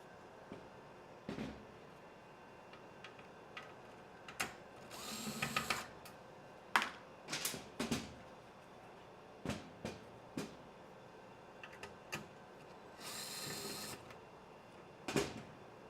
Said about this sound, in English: let's grab the big bit, pull our two big screws out, and then move on to all of our small ones